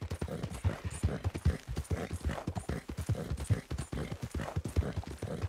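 A horse's hooves clip-clop steadily in Red Dead Redemption 2, a brisk, even rhythm on hard ground that holds close and continuous for several seconds without speech.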